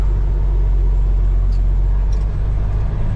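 A semi truck's diesel engine rumbles steadily and loud off-road, a constant deep drone with no clear rev swells.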